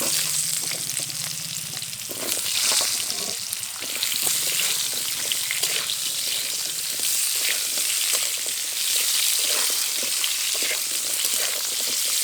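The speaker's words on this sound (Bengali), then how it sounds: "এখন এর মধ্যে দিয়ে দেবো কেটে রাখা আলু এবং পেঁপে।" Diced potato and papaya sizzle and crackle in hot mustard-style oil left from frying fish, with black cumin seeds and slit green chillies, a continuous loud frying hiss broken by occasional stirring scrapes.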